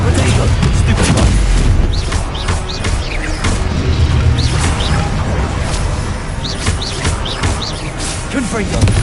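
Rapid blasts from the Confringo explosive spell crackle and boom in Hogwarts Legacy, a dense, loud run of bursts and crashes mixed with shouted voices.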